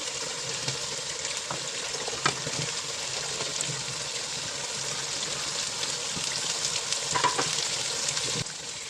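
Cauliflower, capsicum and other mixed vegetables fry in a pan, giving a loud, dense, continuous sizzle with faint stirring scrapes and clicks mixed in. The sound stops abruptly near the end.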